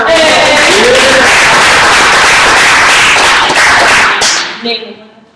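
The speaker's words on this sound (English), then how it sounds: "Clap it up for her." A crowd at a Herbalife University event claps for a participant in a dense, steady burst of applause lasting several seconds. Voices mix in, and the clapping stops abruptly before a brief quiet tail.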